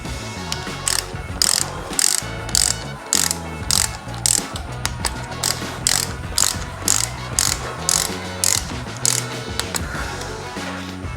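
A ratchet torques small bolts on the top end of a Yamaha YFZ450R engine, giving close, rapid bursts of clicking in an uneven rhythm, with short pauses between strokes.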